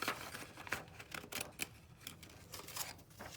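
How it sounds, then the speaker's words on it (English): Craft Edgers postal edge scissors snipping through card in quick, irregular cuts, quiet and close, with soft paper rustling between snips. "I'm just going to do a rough cut and then come back. I'll cut this one out as well."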